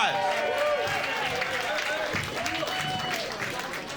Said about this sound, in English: Jessica Larkin, give her a nice round of applause.